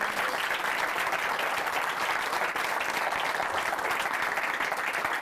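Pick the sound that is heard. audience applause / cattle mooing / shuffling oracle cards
audience applause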